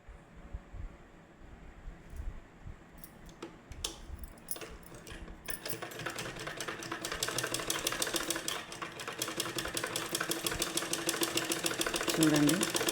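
A sewing machine stitching piping starts with scattered clicks and handling, then settles into a fast, steady mechanical whirr that grows louder and closer, with a voice talking at times.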